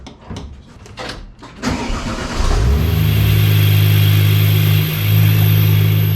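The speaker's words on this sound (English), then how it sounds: "got the engine fired up, which it fires right up every single time, super easily." A rebuilt Porsche 997 911 Turbo engine cranks and catches easily, then settles into a steady, loud idle that hums on nearby.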